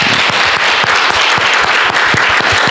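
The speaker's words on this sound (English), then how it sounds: "want to welcome them with a round of applause." A church congregation claps in welcome for visiting elders at a Sunday service, with dense, steady applause filling the room for a few seconds at an even, loud level.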